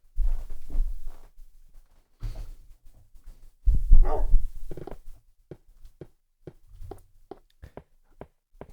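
A dog barks in a video game, several short sharp barks in bursts followed by scattered quieter clicks and thumps, with no talk over it.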